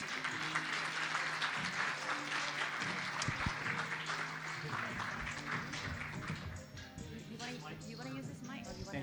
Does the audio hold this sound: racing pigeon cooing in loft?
no